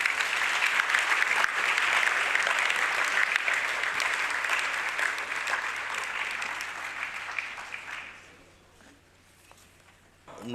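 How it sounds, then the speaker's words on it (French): An audience claps through a formal ceremony opening a bar training year, loud sustained applause that fades out after about eight seconds, leaving near quiet. "sous vos applaudissements, s'il vous plaît."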